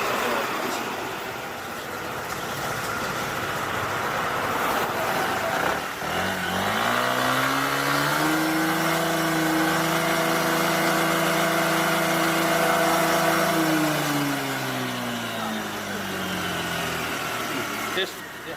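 A delivery motorcycle's exhaust is measured up close: the engine idles, then revs up to a sustained high drone for several seconds and settles back down. Voices can be heard faintly in the background.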